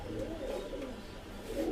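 Oman Teddy pigeons, newly adult birds, making soft low cooing murmurs in a steady rolling pattern, close by and fairly quiet, with no talk.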